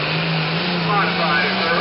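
A modified Allis-Chalmers tractor roars at a county farm-show tractor pull, a loud, steady, sustained engine drone heard close and continuous.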